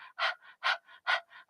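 Breath of Fire yoga breathing: rapid, rhythmic panting with three strong exhales, each followed by a softer breath, close and clear in a quiet room.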